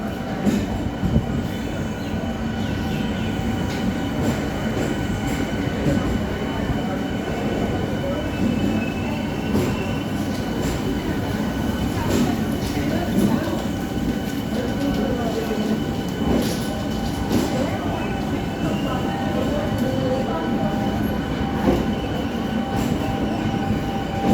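A local train from Krishnanagar pulls into platform four at Sealdah station with a continuous rumble of carriages, wheel clatter and occasional squeals, heard from inside the train.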